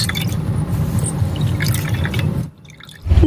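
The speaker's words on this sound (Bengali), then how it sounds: "এখন আমি এইভাবে পুরো ছানাটাকে খুব ভালো করে ধুয়ে নেব।" Fresh chhana cheese curds are washed by hand in cold water, with continuous close sloshing and dripping, a short quiet pause, and then louder splashing as the washing resumes.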